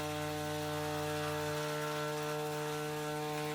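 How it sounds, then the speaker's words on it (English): A woodworking machine mills a timber board down to 22¼ mm frame stock for boat frames, a steady mechanical whir with tonal harmonics that drops in pitch slightly partway through, close and continuous, with no voices. "So I start by machining a board down to the thickness of my frame stock"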